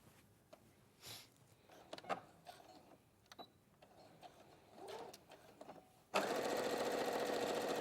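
A sewing machine stitching fabric with a 2mm stitch around a small rectangle, after quiet handling noises, starts suddenly and runs at a steady, loud, continuous whirr.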